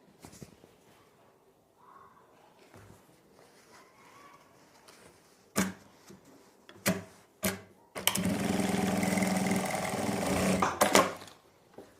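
A sewing machine stitching elastic onto fabric, first a few short separate bursts of stitching, then one longer steady run of rapid whirring stitches, close and clear, with quiet talk earlier.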